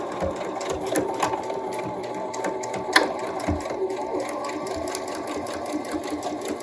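A sewing machine runs steadily, stitching elastic onto a fabric face mask, with a quick mechanical whir and a few soft clicks, fairly close and alone.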